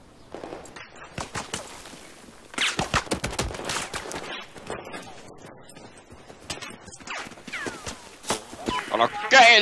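Rapid bursts of gunfire in the video game Battlefield 4 crack in uneven volleys, some near and sharp, some further off, while voices talk over them.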